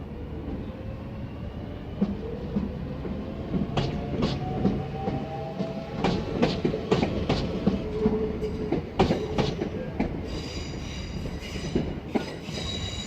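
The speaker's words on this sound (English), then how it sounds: "now departing is our final train of the day, 2 Delta 49, the 1625 Southeastern service to Sheerness-On-Sea" A Southeastern service for Sheerness-on-Sea, formed of unit 466013, pulls out of Sittingbourne station with rising motor hum, rhythmic clacking over rail joints and squealing wheels, loud and near throughout, with no talk over it.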